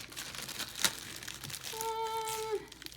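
A plastic bag holding snowman craft pieces crinkles in short, close rustles and crackles, and a brief faint tone sounds partway through.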